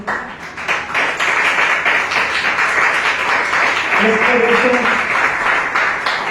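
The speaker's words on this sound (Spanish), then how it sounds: "Den un fuerte aplauso a Dios, hermano." A church congregation applauds in a steady, dense wash of clapping, with voices rising briefly through the middle of it.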